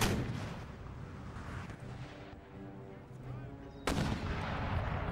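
Howitzer artillery fires on a battlefield in Empire: Total War, with muffled distant booms and rumbling battle noise, then a sudden louder blast near the end.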